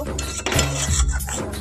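A spatula scrapes and clinks against a pan as powdered spices are stir-fried with a splash of water for a cauliflower, pea and paneer curry, with a steady run of close metallic scraping and a low sizzle beneath.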